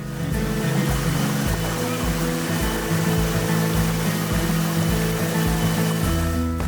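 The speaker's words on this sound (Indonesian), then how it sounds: "Gemuruh air yang sudah terdengar dari belasan meter perjalanan kini nampak jelas di hadapan saya" Deep, continuous roar of rushing water at a three-tier waterfall, loud and close, a dense steady wash with no voices over it.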